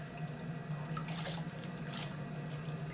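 Water splashes and trickles steadily as a sponge wets a freshly trimmed 22-inch wheel-thrown clay platter, a close, continuous wash with faint higher swishes.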